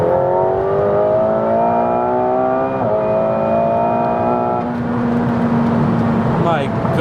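A McLaren 720S Spider accelerates hard, its engine note rising steadily in pitch, dipping briefly at a gear change and then climbing again, loud and close from inside the car with steady road roar underneath.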